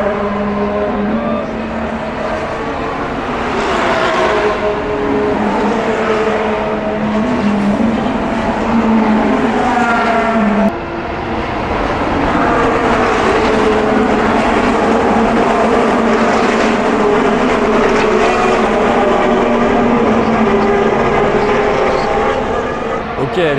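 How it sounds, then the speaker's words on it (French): Formula 1 cars racing at the Miami Grand Prix, engines roaring past one after another in a loud, continuous wash of high-revving tones with rising and falling pitch, heard from a trackside spot. "Ok, les voitures viennent de passer devant moi."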